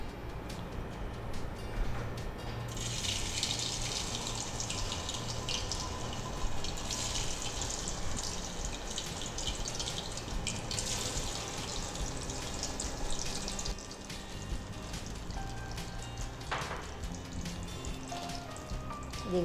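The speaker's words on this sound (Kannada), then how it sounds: "ಈಗ ನಾವಿದ ಆಲೂಗಡ್ಡೆಯನ್ನು ಡೀಪ್ ಫ್ರೈ ಮಾಡ್ಕೊಳ್ಳೋಣ." Potatoes for aloo 65 deep fry in hot oil, giving a steady, dense, rain-like sizzle and crackle that runs close and unbroken throughout, easing slightly toward the end.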